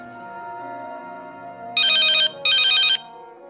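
A phone ringtone plays two loud, melodic bursts of ringing over a soft background tone, close and alone with no one speaking.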